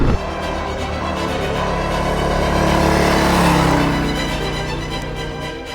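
A 2024 Harley-Davidson Road Glide motorcycle engine revving, a loud continuous close-up roar that swells toward the middle and eases off again without a break.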